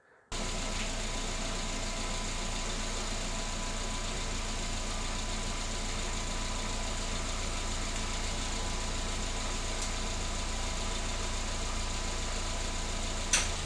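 1.5-litre Mazda 2 engine idling during a coolant change, a steady low hum with a faint even knock, constant and close throughout.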